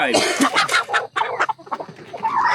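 Several chickens cluck and squawk close by in a busy, overlapping burst of short calls.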